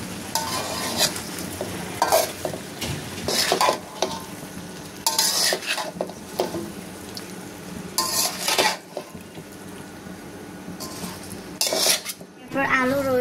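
Beef being stirred with potatoes and whole garlic cloves in a pot, bursts of metal spoon scraping and clanking against the pot over a low sizzle, close and intermittent.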